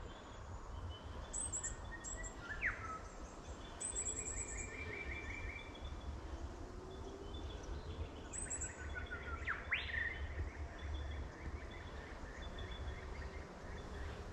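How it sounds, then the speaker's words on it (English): Scattered bird calls and chirps ring out over a steady outdoor hiss in the bush of Knapsack Reserve, some sharp and rising, others soft trills in the distance. "Gotta love the sound of the birds."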